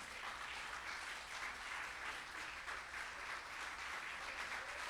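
A church congregation applauding during a service, a dense, continuous wash of many hands clapping, heard faintly and from a distance with no break in the sound.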